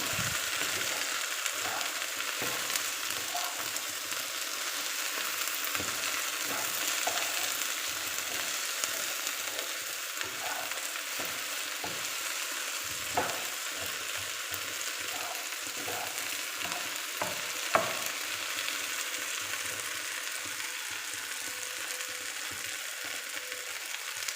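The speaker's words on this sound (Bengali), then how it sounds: "এখন ভেন্ডিগুলো মশলার সাথে মিশিয়ে নিচ্ছে" Okra (bhindi) stirred with spices in a frying pan, a steady frying hiss running throughout with frequent small spatula scrapes and clicks at an even, unhurried pace.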